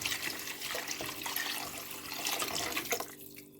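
About 1.5 litres of water poured steadily into a cooking pot, a continuous splashing gush lasting the whole moment, close and fairly loud with no speech.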